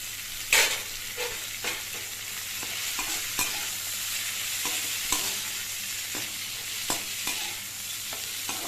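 Chopped coriander stems sautéed in an urad dal mixture in a pan, with steady frying sizzle under repeated scraping and clinking strokes of a spoon stirring the mix, close and fairly loud.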